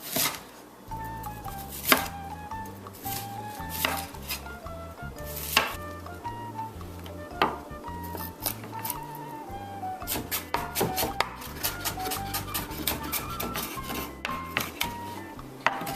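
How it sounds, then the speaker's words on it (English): An onion chopped with a knife on a cutting board, a long series of crisp, close knocks in an uneven quick rhythm over faint background tones. "you're ready to just chop it up"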